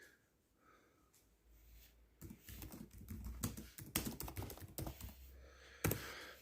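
Faint, quick clicking of computer keys as a typo is fixed, starting quietly and growing into a denser tapping run near the end, close and without talk.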